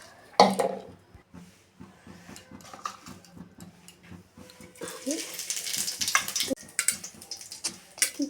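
Spices hitting hot oil for a crab dish, a broad crackling sizzle that swells loudly from about the midpoint and carries on, with scattered clinks and kitchen noises earlier.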